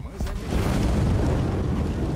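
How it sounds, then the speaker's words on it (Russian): A deep, rumbling explosion in Far Cry: New Dawn, a loud low boom that rolls on for about two seconds after a sharp onset. "Убегите от взрыва."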